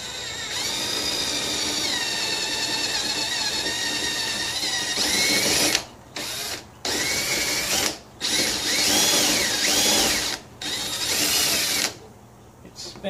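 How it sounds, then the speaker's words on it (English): A power drill whines loudly and steadily with a Unibit step bit grinding into metal on a 1975 Vanguard Citicar, then stops and restarts in several short bursts. "Wonder if this Unibit's got what it takes to drill those out."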